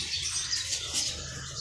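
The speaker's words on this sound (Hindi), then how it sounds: "तो ये हैं तोते" Pet parrots kept indoors give faint, scattered chirps against a steady background hiss, brief and close.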